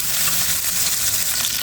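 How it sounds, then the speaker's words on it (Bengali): Onions and green chilies sizzle and fry in a pan while being stirred, a steady close hiss of hot oil with soft scraping under it, no voices. "এখন আমি এটা নেড়ে চেড়ে একটু ভেজে নেব"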